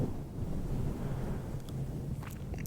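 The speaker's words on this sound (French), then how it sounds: "Un peu de vent, mais pas trop." Light wind on a quiet beach, heard as a steady low rushing buffet with faint surf-like wash, soft and continuous with no voices.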